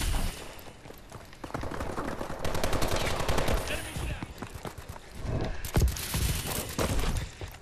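Rapid bursts of Blunderbuss Culverin gunfire ring out in the video game Call of Duty: Advanced Warfare, dense repeated shots in quick volleys layered with game effects, with a voice talking at times.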